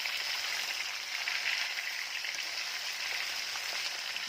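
Fish fries in very hot oil, giving a steady quiet sizzle and crackle throughout with no voices.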